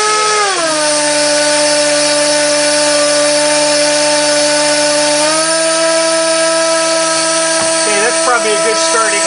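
A brushless outrunner motor spins a propeller on a load test bench, a loud steady high-pitched whine that steps up in speed partway through, with faint voice near the end.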